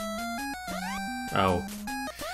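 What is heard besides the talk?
choppy edited video game music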